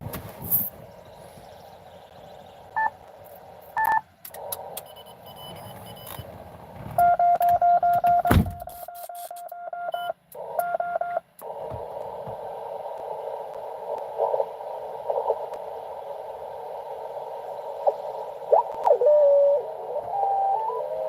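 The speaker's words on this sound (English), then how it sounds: "Well, of course, FT8 is on. I can hear that." An FT8 digital-mode radio signal comes through a receiver tuned to 10 meters: steady, faint tones over background hiss that run for the whole stretch, broken once by a louder tonal burst, with no talk.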